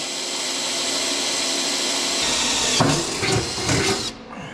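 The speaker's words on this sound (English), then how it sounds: "First we have to drill our holes for our bottom." A power drill whines steadily at close range, then bursts in short pulses as it bites into material before cutting off.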